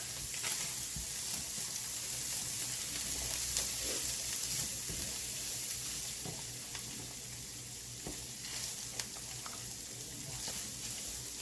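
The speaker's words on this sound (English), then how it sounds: "Let me give this a little stir." A low-carb cabbage roll casserole mixture sizzles steadily in a pan while being stirred, with a constant frying hiss and occasional soft scrapes and knocks of the utensil, alone and with no talk.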